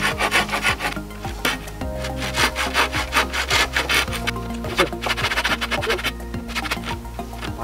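A handsaw cuts through the tops of wooden tipi poles outdoors, its strokes loud and close in a steady back-and-forth rasp with brief pauses between runs.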